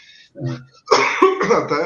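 A single throaty cough, close and fairly loud, followed by a burst of harsher coughing or throat-clearing, during an interview.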